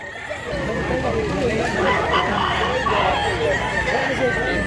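Chickens and roosters crow and cluck together on a Philippine poultry farm in Mantalungon, Cebu, a steady, busy chorus of overlapping fowl calls heard close and far.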